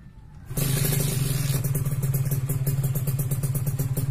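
A Kawasaki Ninja RR fitted with an aftermarket racing exhaust starts up and revs hard, a loud, steady, crackling two-stroke drone that holds close and strong after a brief quiet lead-in, with no talk over it.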